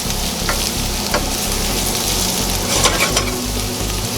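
Carrots fry and brown in a pan, a loud, steady crackling sizzle with a few soft clicks as pieces are turned, and no talking.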